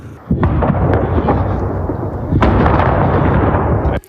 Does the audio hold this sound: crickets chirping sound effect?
no